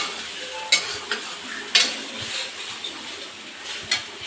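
Soybeans cook in a pan with a soft, low sizzle, broken by several sharp clinks and scrapes as a utensil stirs them at irregular moments, close by and with no talking.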